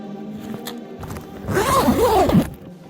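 A brief, close rasping zip as a plastic Ziploc bag seal is pulled open, lasting about a second over quiet handling noise.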